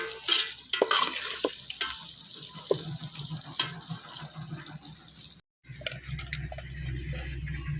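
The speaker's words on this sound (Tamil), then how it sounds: "நல்லா பொரிஞ்சு வருது." Chopped shallots and vegetables spluttering in hot oil for a South Indian vatha kuzhambu, a steady close crackle with sharp pops and scraping stirs, cutting out briefly near the end before resuming.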